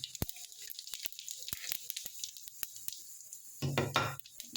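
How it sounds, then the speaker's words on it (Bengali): Cumin seeds dropped into hot oil in a wok for a fish curry tempering, giving a sudden loud burst of sizzling near the end after scattered clinks and quiet kitchen noise. "নিয়ে এবার কড়াইয়ে আমি জিরের ফোড়ন দিলাম।"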